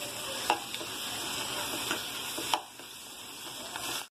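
Capsicum egg bhurji stirred in a pan on a gas stove, faint sizzling under a few light spatula scrapes and taps against the pan, steady and close.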